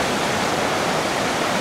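Loud, steady rush of the high Yuba River, a continuous broadband roar of fast water heard close up with no other sounds.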